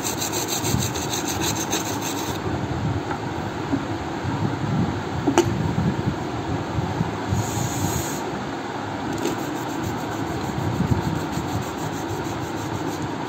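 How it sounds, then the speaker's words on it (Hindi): A brush scrubs steadily over keypad mobile phone parts wet with cleaner or petrol, a continuous close rubbing and rasping sound with a few faint clicks, no talking. "इसको ब्रश की मदद से पॉलकॉन या कोई और क्लीनर जो भी हो आपके पास, पेट्रोल हो पेट्रोल से, किसी भी क्लीनर से इसको थोड़ा साफ़ करें।"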